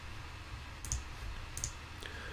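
Two soft, quick mouse clicks in the Yomi card game interface, spaced under a second apart over a faint steady background hiss, with a fainter third click near the end.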